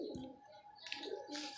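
A rooftop pigeon coos softly and at a distance, giving a few low, murmuring calls against quiet background noise.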